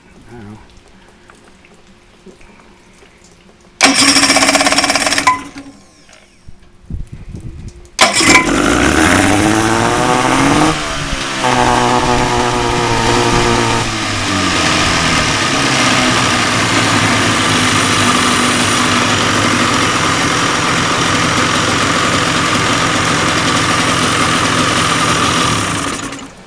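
A small engine is cranked after a fuel pump repair, sputtering briefly before it catches. It then revs, with its pitch sweeping up and down, and settles into a steady, loud, close idle.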